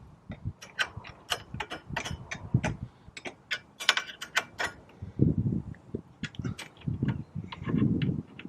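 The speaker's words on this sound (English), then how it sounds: "I use the box end on it, and I tighten a nut and I just hold it with the Allen wrench on the front" Metal ratcheting and clicking from tightening a nut with a box-end wrench while an Allen wrench holds the bolt, mounting a Yikatoo tubular door. Irregular sharp ticks come in quick bursts, close and fairly quiet, with no talking.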